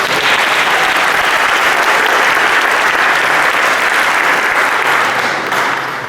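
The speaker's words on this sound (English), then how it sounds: "So let's clap for them as well." A graduation audience applauds soloists and singers in a long, dense, steady round of clapping that fills the room without pause and eases off slightly at the very end.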